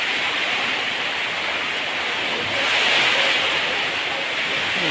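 Heavy typhoon rain pours in a loud, steady, close hiss that swells briefly partway through, with no voices.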